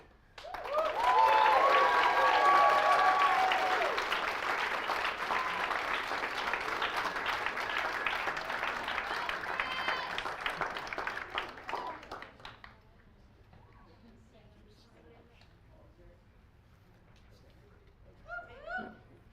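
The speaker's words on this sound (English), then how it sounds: "another big round of applause and some whoop whoops" Loud audience applause with cheering and whoops at a university speech showcase, a dense sustained roar for about twelve seconds that then stops abruptly, leaving a quiet room.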